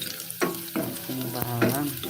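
Garlic sautéing in a pan for a sardine dish, with a steady sizzle and repeated scraping, squeaky stirring strokes close by.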